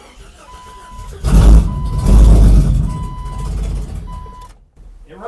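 A Cherokee and Rambler combination build's engine cranks, catches and runs, a loud, close rumble swelling after about a second and holding with slight rises and dips before cutting out, with steady beeping over it.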